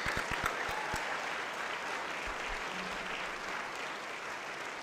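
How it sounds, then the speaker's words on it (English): An audience at a festival of books author's dinner claps in sustained applause, a dense wash of hands that holds steady throughout, with a few sharper individual claps at the start. "Let's give them a great round of applause."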